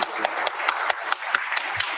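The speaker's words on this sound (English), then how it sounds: "That's going to be the new round of applause sound on the soundboard for AEW news." Soundboard applause effect for a wrestling news segment: a short burst of crowd clapping with sharp regular hand claps, loud and close, with no talk.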